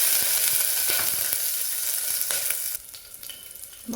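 Onions and curry leaves sizzling in hot oil in a pan for sambar, a loud steady frying hiss that drops abruptly quieter near the end, with occasional stirring clicks.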